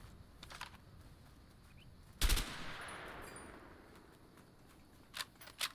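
A weapon is tested in the video game A Way Out: one loud burst of gunfire, followed a few seconds later by two fainter, sharp reports over a low background hum, with no speech.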